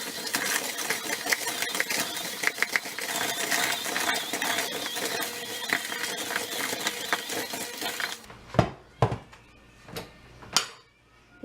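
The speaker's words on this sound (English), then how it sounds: "I think I should use a hand mixer." Hand mixer whirring through cookie and Oreo truffle dough in a home kitchen, a steady close buzzing drone that stops abruptly, followed by a few sharp clanks and knocks of utensils against the bowl.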